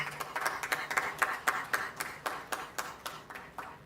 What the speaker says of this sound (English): Why don't you give a big round of applause?